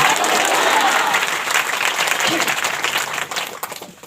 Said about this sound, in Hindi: ताली बजा के बोले हालेलुया।